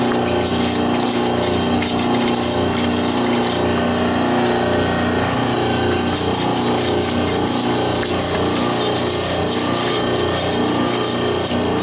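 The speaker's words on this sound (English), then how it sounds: "let me turn the pump on and we'll get to work on this one" A pump runs loud and steady while a big Caterpillar generator crankcase is cleaned out, its liquid churn and motor drone filling the whole stretch without a break.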